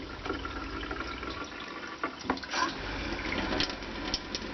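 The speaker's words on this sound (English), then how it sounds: "It's a decent stream of water." Water streaming from a tap on a newly installed RV plumbing system, a soft hissing, splashing flow with small spurts and sputters from air in the lines, fairly quiet and close.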